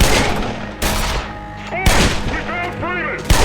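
Soldiers fire on the player in the Half-Life remake Black Mesa, with loud rapid automatic gunfire bursts and heavy booming shots in close succession and a voice speaking under the chaos.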